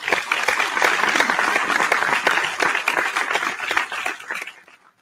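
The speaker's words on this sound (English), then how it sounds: "Please give a round of applause for our seventh grade girls student athletes." A crowd at a school athletic awards ceremony claps for seventh grade girls student athletes, steady and full for several seconds before tapering off and stopping near the end.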